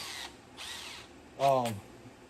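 A power drill twisting two wires together during Camaro wiring work whirs in three short bursts, the last louder with a rising whine, and the drill is heard alone.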